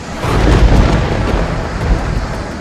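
A thunderstorm over mountains gives a loud, deep rolling rumble of thunder mixed with a dense wash of heavy rain, with no voices.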